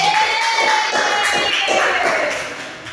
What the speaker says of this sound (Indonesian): Kasih tepuk tangan untuk kalian.